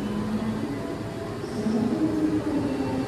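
An economy passenger train pulls out of a station with a steady low rumble and hum that swells slightly as it moves off, heard close and continuous with no voices.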